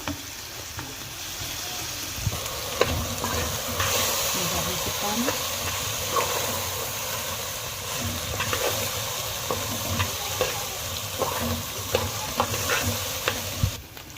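Okra and mixed vegetables frying with browned onion and garlic in a pan, a steady sizzle with stirring clatter and scraping throughout, fairly close and continuous.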